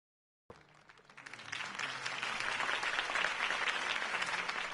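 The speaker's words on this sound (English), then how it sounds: "If only Mr. Wayne, my campaign's largest backer, could have heard that applause" Applause from a large crowd in Batman: The Telltale Series begins suddenly and swells into steady, dense clapping that holds at full strength, fairly loud with no talk.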